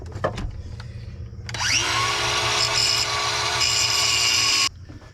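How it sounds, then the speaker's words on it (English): A power tool grinds the head off a corroded bolt while an A/C compressor is replaced on a 1994 Chevy Blazer Z71. A short clatter comes first, then a loud, close, high grinding whine spins up and holds for about three seconds before cutting off. "now we'll grind the head off this bolt"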